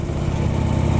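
A motorcycle engine rumbles steadily on a quiet park road near a lake, a loud, close, continuous drone through the whole moment with no voices.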